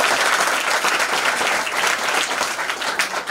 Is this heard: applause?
yes